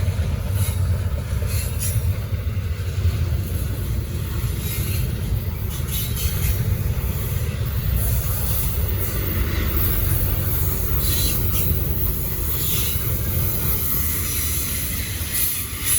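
A Norfolk Southern freight train hauled by three locomotives passes close by in Gaffney, South Carolina, a continuous loud rumble of wheels on rail with faint squealing and clicking joints throughout.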